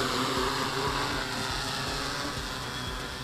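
Matrix S drone motors humming and whirring up toward takeoff throttle, a steady mechanical drone with a pulsing low rumble that holds fairly loud and slowly eases, no speech.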